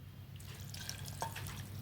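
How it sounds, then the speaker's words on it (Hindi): Lukewarm water trickling and splashing onto broken pieces of jaggery in a bowl for an eggless wheat-flour cake, a soft pour starting after a brief quiet moment, with a few small drips, faint over low background hum. "और ये गुनगुना पानी है ताकि गुड़ जल्दी से मेल्ट हो जाए।"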